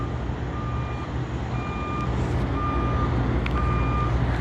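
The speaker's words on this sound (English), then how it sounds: "See truck backing up." Truck reversing alarm beeping steadily at a California truck stop, four evenly spaced beeps over a constant low engine rumble and traffic noise, no talking.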